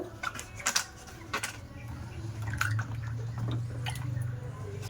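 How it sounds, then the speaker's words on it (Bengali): Raw green mangoes are rinsed by hand in water, with splashes, drips and wet rubbing, then a steadier trickle of running water toward the end, close and moderately loud. "আমগুলো পরিষ্কার করে জল দিয়ে ধুয়ে নেব, যেন এর গায়ে কোনো ময়লা না থাকে"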